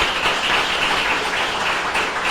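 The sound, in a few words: applause for Jesus in church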